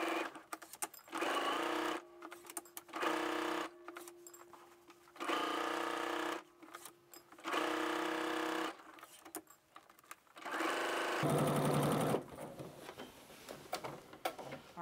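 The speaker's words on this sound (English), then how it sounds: "we're gonna stitch down the rest of the skirt" A sewing machine stitches down a dress skirt seam in several long runs of steady motor whir and needle clatter, separated by short quiet pauses, recorded up close.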